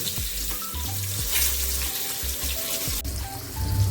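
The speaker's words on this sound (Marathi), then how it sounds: "तुम्ही बघू शकता बोंबील फ्राय होत आहे इकडं" Bombay duck (bombil) fish frying in a pan gives a steady bubbling sizzle with a watery, splashing texture and a few low knocks, moderately loud and close.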